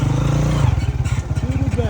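A motorcycle rides toward the Rupal face of Nanga Parbat, its engine thrumming close with a rapid, pulsing putter, while a voice is heard briefly at the start.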